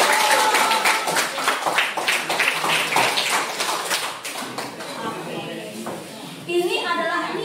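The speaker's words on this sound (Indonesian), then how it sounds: "Kasih untuk tepuk tangan sekali lagi." A class and teachers clap together at a school gathering on positive school culture, a dense patter of hand claps running under a teacher's speaking voice before thinning out.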